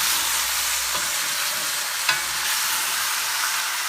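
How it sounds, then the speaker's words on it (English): Browning meat with onions and garlic sizzles loudly and evenly in a pan while being mixed around, with a single light tap of the utensil midway through the steady frying hiss. "Then start to mix that around."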